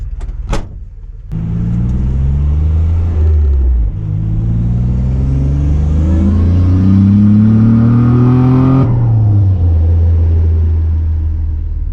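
A turbocharged Nissan Navara's VG30 engine runs at about 11 psi of boost, revving loud and close in sustained, climbing pulls with a brief dip partway, then a drop back toward idle.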